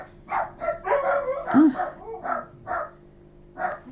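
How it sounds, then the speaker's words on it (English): Boots, a pet dog, barks indoors in a run of short, fairly close yaps, joined by another dog, Bella, while a person speaks briefly over the noise. "couldn't tell you why Boots is barking this morning."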